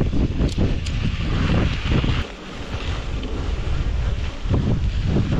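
Steady side wind buffets the microphone on a dirt mountain road, a loud continuous roar with gusty swells and dips and no talk.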